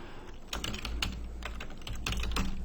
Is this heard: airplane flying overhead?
no